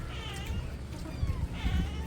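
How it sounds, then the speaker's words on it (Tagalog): Cats meow near a meal of adobong bagungon soup, two rising, wavering cries about a second apart over low background noise. "Nahingi mga pusa."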